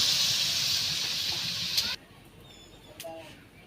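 Beef or goat curry hisses loudly in a pan as broth is poured in during village cooking, a strong steady sizzle that cuts off abruptly partway through, leaving quiet background with a faint short sound later.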